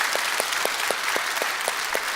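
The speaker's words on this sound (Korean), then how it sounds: "박수 한번 하겠습니다." A church congregation claps together in a steady, rhythmic beat, each clap landing evenly about a quarter second apart over a continuous wash of scattered applause.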